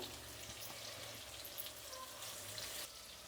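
Green chillies, dried chillies and garlic frying in a pan, giving a steady, soft crackle and hiss like light rain that carries on evenly and quietly throughout.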